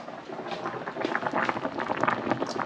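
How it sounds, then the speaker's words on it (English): Water boiling in a cooking pot, a soft continuous bubbling and popping that is close and moderately quiet, with no talking over it. "And it is boiling now."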